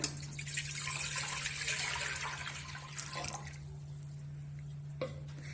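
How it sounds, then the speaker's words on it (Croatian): Two litres of water pour steadily into a pot for a few seconds, then stop, leaving a quiet room with a low hum and one faint clink. "U šerpu prvo sipamo 2 litra vode."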